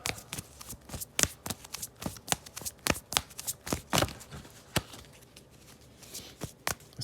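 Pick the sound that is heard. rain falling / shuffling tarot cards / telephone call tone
shuffling tarot cards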